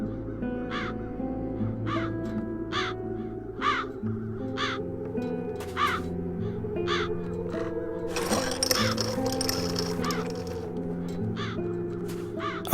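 Crows caw repeatedly in the video game The Dark Eye: Chains of Satinav, sharp evenly spaced calls over a steady ambient music bed, with a brief noisy swell partway through.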